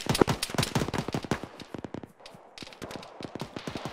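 Gunfire in the military video game Arma, a rapid series of loud, sharp shots in bursts, some overlapping, with a brief lull before more shots resume.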